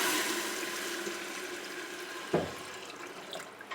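Water pouring into a cooking pot on a home stove for brown sugar syrup, a steady trickling stream that ends in a short splash, heard close and alone.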